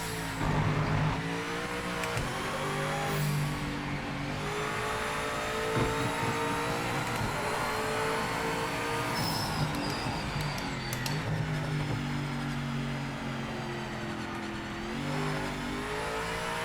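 A BMW GTE race car in a racing game laps Spa-Francorchamps, its engine revving up and dropping through gear changes, with tire squeal through the corners, steady and loud throughout with no talking.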